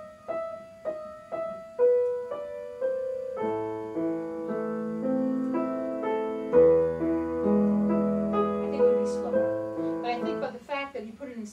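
A piano plays the opening figure of Für Elise recast in 3/4 time, single notes at first, then fuller chords and bass notes in a clear, moderately loud phrase.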